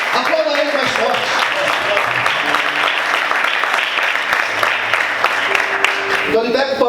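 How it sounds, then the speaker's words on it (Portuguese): Church congregation applauding during a Portuguese sermon, a loud, dense, continuous clapping that carries steadily throughout, with voices calling out over it. "Aplauda Ele mais forte."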